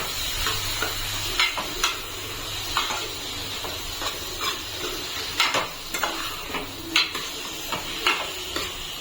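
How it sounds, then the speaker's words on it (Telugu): Chicken pieces with turmeric sizzling in a hot pan on the stove, a steady frying hiss broken by repeated stirring scrapes and light clinks of a spoon against the pan, with no talking. "తర్వాత పసుపు వేసుకున్నాక చికెన్ యాడ్ చేసుకోవాలి."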